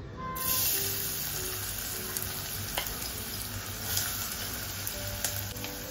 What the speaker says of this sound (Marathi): इथे तेल गरम करत ठेवलं आहे, त्यामध्ये कांदा टाकणार आहे